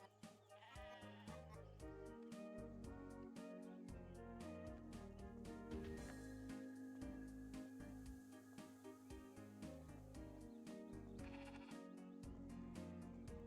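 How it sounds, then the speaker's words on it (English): Several sheep in the video game Discounty bleat repeatedly over a musical background, their wavering calls coming close together and fairly loud. "Sheep."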